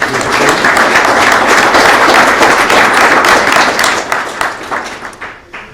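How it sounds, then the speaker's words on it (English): Sustained, dense applause from a hearing-room audience for members of Congress at a Senate confirmation hearing, loud and steady before thinning out toward the end. "Give all these members a round of applause."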